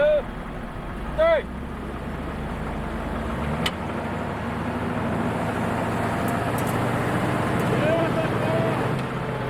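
A several-ton Humvee is hauled out of a sand trap by Marines in Anbar, Iraq, with a steady engine rumble throughout and voices calling out over it.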